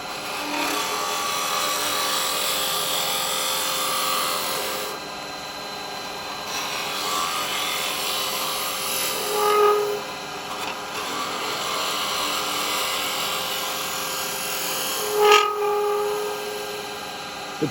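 A shear cut hollower carbide chisel with a 10mm cutter working wood on a lathe: a continuous close rubbing, scraping cut over a steady machine hum, with a couple of brief louder catches.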